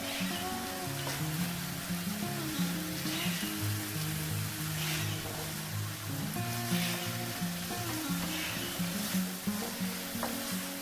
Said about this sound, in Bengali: এই মশলাটা খুব ভালো করে কষাতে হবে